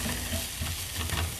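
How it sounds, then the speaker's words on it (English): Onion and garlic sauté in a pan, giving a steady close sizzle with faint stirring scrapes throughout, no voices. "we can saute this onion and garlic together and add that to the beans"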